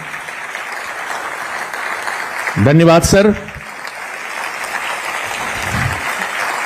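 An audience at a formal ceremony applauds in a steady, even wash of clapping from a hall; midway someone briefly speaks over the applause, which continues after him.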